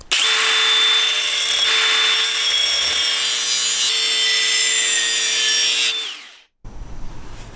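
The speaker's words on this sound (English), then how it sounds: "I'm going to get my initial patch cut out of this offcut from a previous job." A power tool cuts a patch from a metal offcut for a BMW E30 floor pan rust repair, a loud, steady high-pitched whine with a grinding edge that runs for about six seconds, winds down and stops.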